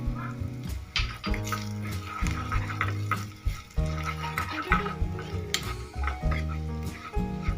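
Red chilli and garlic chutney roasts in a pan, with continuous sizzling under repeated spoon scrapes and stirring clatter in an uneven rhythm, close and fairly loud.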